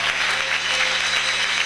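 Church congregation at a Sunday service applauding together, a steady dense wash of clapping hands that fills the space evenly for the whole moment, with no talk over it.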